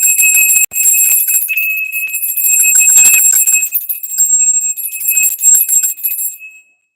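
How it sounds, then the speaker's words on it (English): A solar plexus bell rings loudly with bright, sustained high tones, struck again partway through and decaying to silence at the end. "I'm going to ring this solar plexus bell because evil entities do not like the bell."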